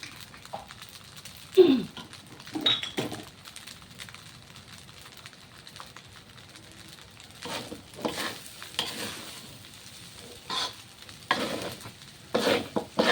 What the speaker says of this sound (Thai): ไฟเบาๆ แล้วก็ผัดไป ใช้เนยกับน้ำมันกุ้งอย่างเดียว